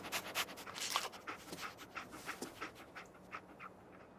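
Dogmeat, the canine companion in Fallout 4, pants in quick rhythmic breaths with a few sharp snuffs, close and clear at moderate volume with no one speaking.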